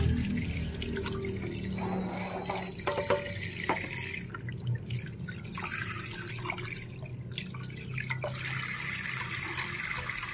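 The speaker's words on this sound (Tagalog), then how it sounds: "Uhugasan po natin sa ulit." Milkfish being washed by hand in water after a vinegar and salt rinse, with running and splashing water, intermittent drips and handling noises, moderately close and with no talking.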